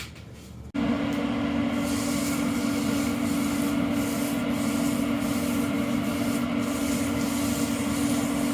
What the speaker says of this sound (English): The instruction says clean, then season these grates.